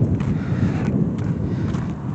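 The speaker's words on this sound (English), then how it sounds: "it's cold, windy." Cold, gusty wind buffeting a microphone outdoors on a walk home, a loud steady roar that fills the whole moment, with no talking.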